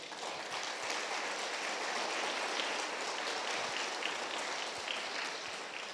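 A church congregation claps for Jesus during a Spanish-language service, a continuous, even wash of many hands with no speech over it.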